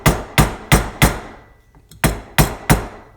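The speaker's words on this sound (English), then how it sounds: "I think I might switch to a dowel so I can kind of see more what's going on around each edge." A dowel taps an oil seal into place during the rebuild of a 1981 Yamaha G1 golf cart, giving sharp, close wooden-metal knocks in a steady rhythm, six clear strikes with a brief pause in the middle.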